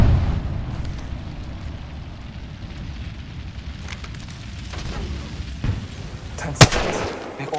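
A thermite grenade in the video game Apex Legends bursts and burns, a low rumbling roar of fire with crackling, punctuated near the end by a sharp loud crack, amid faint game ambience.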